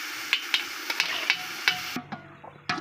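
Onion and half a tomato sauté for a fried and ground fish curry while a spoon stirs them in a pan. A close, even sizzle carries sharp rhythmic taps of the spoon against the pan, and the sizzle drops away near the end.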